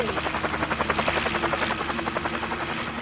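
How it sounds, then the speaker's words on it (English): A helicopter in the Resident Evil video game gives a steady, rapid rotor thump over a loud engine whine, constant and close throughout with no voices. "Whose idea was it to leave the guy with the nickname Chicken Heart in the helicopter"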